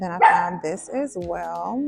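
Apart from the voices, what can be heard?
dog barking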